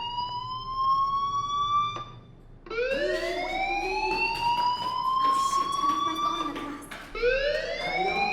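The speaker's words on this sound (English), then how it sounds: "do you hear that fire alarm?" A fire alarm wails in the video game Life is Strange Remastered, a loud rising and falling electronic siren sweeping repeatedly, briefly pausing between cycles, with a voice speaking faintly underneath.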